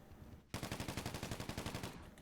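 Automatic gunfire in GTA 5 Online starts abruptly after a short quiet stretch and rattles in a fast, even burst of about a dozen loud shots.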